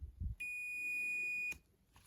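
A steady electronic beep from a multimeter in continuity mode, sounding for about a second as the probes touch a good fuse on a circuit board, sharp and fairly close after a brief handling knock, with no talk.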